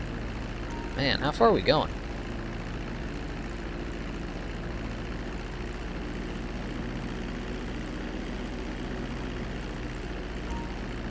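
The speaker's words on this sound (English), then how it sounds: "This isn't a very fast plane" Steady, even drone of a slow airplane engine in Grand Theft Auto 5, constant and close throughout, with someone speaking briefly near the start.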